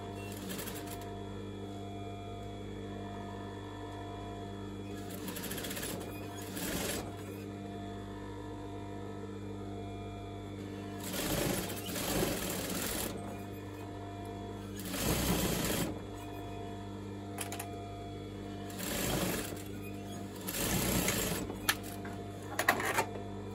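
Sewing machine stitching a velvet coat sleeve, running in several separate bursts of fast whirring stitches with a steady hum and quiet pauses between runs, close and fairly soft.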